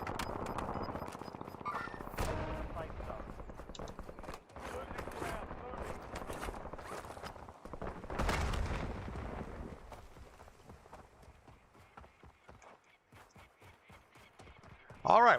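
Gunfire in a Warzone battle on a hillside, with a burst-fire weapon crackling in rapid short volleys, some loud and near, some distant, mixed with explosions and heavy in-game noise while players talk over it.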